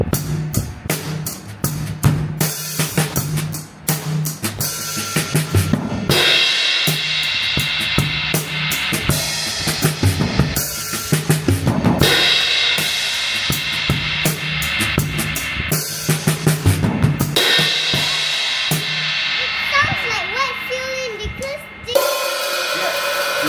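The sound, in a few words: wet drum fill-in with ringing cymbals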